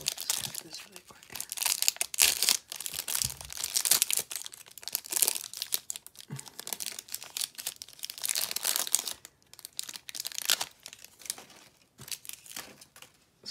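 A Panini 2020 Mosaic football card hanger box is cut and torn open, with close crinkling plastic and tearing wrapper sounds in bursts, while someone talks throughout.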